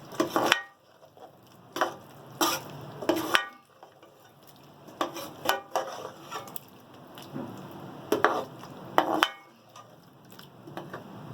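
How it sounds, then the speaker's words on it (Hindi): Chicken is sautéed in masala with cumin, roasted coriander and garam masala, a soft sizzle broken by repeated scraping stirs against the pan, several bursts in irregular rhythm, close and without talk. "इसको हम अच्छे से मसाले में भूनेंगे"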